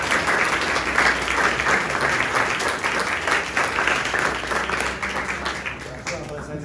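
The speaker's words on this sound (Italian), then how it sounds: "credo che meriti anche un applauso per me" An audience at a political speech by an Abruzzo regional politician breaks into sustained, dense applause that stays loud and steady throughout, with some voices mixed into the clapping.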